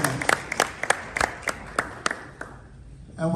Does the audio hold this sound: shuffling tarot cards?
no